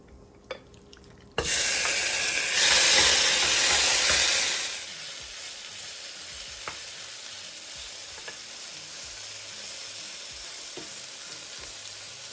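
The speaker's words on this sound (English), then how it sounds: "Now it is nice and smoky and time to put in the meat." Lamb meat drops into a hot pot of smoky burnt sugar, setting off a loud, sudden sizzle that surges for a few seconds, then settles into a steady, quieter frying hiss with occasional faint pops.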